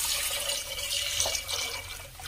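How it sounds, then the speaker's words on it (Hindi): Water poured from a tap or jug into a cooking pot of fried spices and soaked moong dal, a steady continuous splashing stream heard close by with no talking. "अभी मैं इसमें ऐड कर रही हूँ पानी।"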